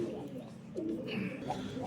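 Soft low cooing of a single male Teddy pigeon, a few throaty burbling notes close by, mixed with faint background murmur.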